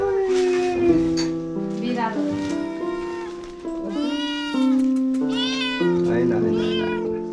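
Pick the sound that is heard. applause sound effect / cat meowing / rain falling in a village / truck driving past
cat meowing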